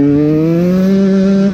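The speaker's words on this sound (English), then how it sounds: "It revs out pretty clean." A KTM 150 XCW two-stroke dirt bike engine, fitted with a Lectron carburetor, revs out cleanly and steadily in one smooth rising pull, loud and close.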